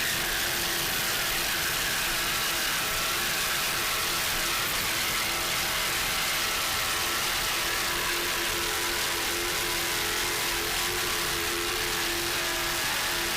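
Powerful Super V class racing powerboat engines, including the Godspeed entry number 121 from Bad Boy Powerboats with its distinctive exhaust setup, roar continuously and loudly during an offshore race off Fort Myers, a dense, unbroken drone with no talk.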